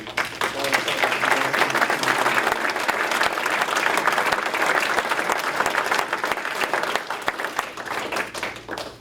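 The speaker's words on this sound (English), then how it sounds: "if you would lead us in a round of applause" A city council meeting audience in Minot gives a round of applause, a full, sustained burst of many people clapping at once that stays loud and steady before tapering slightly at the end.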